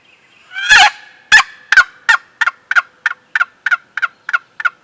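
A handheld call imitates a turkey: a loud first yelp followed by a steady series of about ten sharp, evenly spaced yelps, close by.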